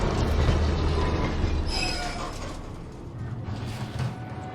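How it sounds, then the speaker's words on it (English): A rumbling train carriage in the Dishonored game, a dense, steady mechanical roar with rattling wheels and a brief metallic squeal, loud and continuous with no speech. "Just the train carriage that's purely for just dumping plague victims."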